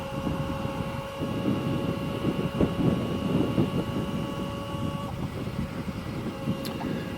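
Kollter ES1-S Pro 11 kW electric motorbike riding along, giving a steady whine with thin tonal lines over broad road and wind rush, moderately loud and continuous, with no talking.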